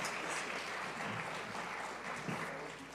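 Steady applause for a panel of speakers at a live church tabernacle event, a dense even patter of clapping from an audience that holds at a constant level throughout.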